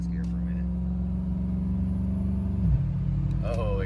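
A truck engine drones steadily as it accelerates on a highway, then its pitch drops when the transmission grabs the next gear, a brief shift bump before the engine pulls on.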